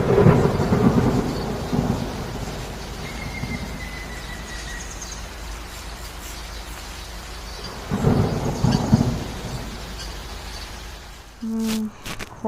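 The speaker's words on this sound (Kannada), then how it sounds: "ಮಳೆ ಸ್ಟಾರ್ಟ್ ಆಗಿದೆ ಆಲ್ರೆಡಿ." Steady rain falls in a forest near Agani Gudda, Sakleshpur, during a morning trek. Heavy rumbles of thunder roll in at the start and again midway, and a few close knocks sound at the end.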